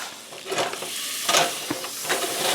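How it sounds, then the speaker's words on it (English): A small beef roast sears in browned butter on a woodstove, giving a steady crackling sizzle with sharper spits and pops that flare at moments, close and alone. "sear the roast"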